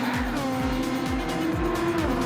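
Race cars in a racing video game, custom SF23 machines at Suzuka, scream close through a chicane in an overtake, their engines revving and dropping through repeated downshifts while tyres squeal.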